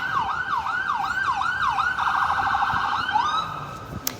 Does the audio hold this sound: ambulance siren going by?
yes